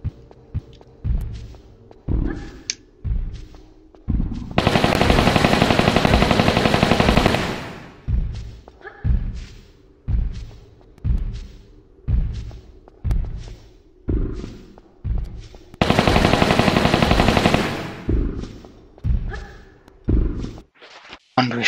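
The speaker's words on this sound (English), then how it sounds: "Get out these Uzis." Uzi gunfire in the Tomb Raider 3 video game, Meteorite Cavern level: bursts of rapid automatic fire between loud single thudding shots in a steady rhythm, close and punchy, with talk over parts of it.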